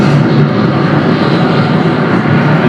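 Saturn V rocket engines roaring at the Apollo 11 launch, a loud, steady, broadband rumble that fills the whole stretch without a break or any voice.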